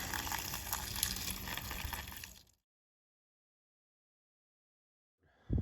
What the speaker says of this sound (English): you're going to see a lot more water run out